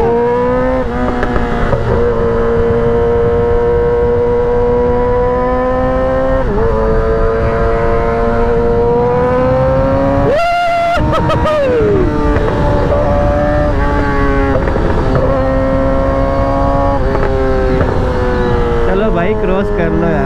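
A Yamaha R6 sport motorcycle's engine runs close by, a loud buzzing drone with shifting pitch from revs rising and falling, plus a sharp burst of revving in the middle.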